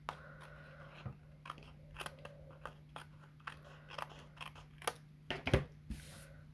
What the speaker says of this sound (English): you'll flip it over and cut off all the overhang excess bits